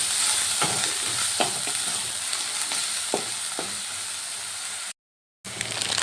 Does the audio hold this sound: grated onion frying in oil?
yes